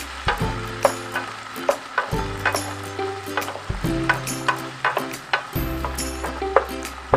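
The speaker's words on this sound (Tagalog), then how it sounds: "Mix natin yung ating ingredients." Tomato and fish sarciado ingredients stirred in a frying pan, a steady sizzle broken by repeated scraping and knocking strokes of a utensil against the pan, close and fairly loud, with no talking.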